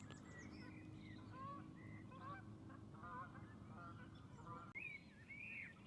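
Geese honk and call repeatedly, some calls near and others farther off, over a steady low rumble at a carp fishery lake in Surrey in summer.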